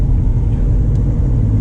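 Low, dense engine rumble inside a Mahindra XUV 500 SUV on the move, a steady heavy drone filling the cabin at close range with no talk over it.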